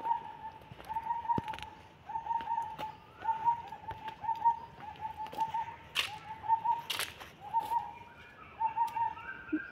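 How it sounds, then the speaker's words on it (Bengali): An Asian koel calls over and over in a botanical garden, a clear rising note repeated at a steady rhythm from a moderate distance, with occasional clicks and other faint birds around it. "সুন্দর কোকিল ডাকের আওয়াজটি অনুভব করুন।"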